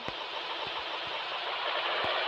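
Motorcycle engine in the mobile game PUBG Mobile, a steady broadband mid-range drone running continuously at a constant level, with a few faint low thumps, and no voices over it.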